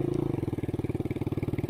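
A motorcycle engine chugs steadily with a fast, even pulsing beat, close and loud, while it tows a bicycle uphill on a mountain trail in Tagaytay City.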